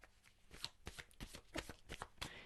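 A tarot deck being shuffled by hand, quick papery riffles and flicks of cards in close, crisp bursts, with no voices heard.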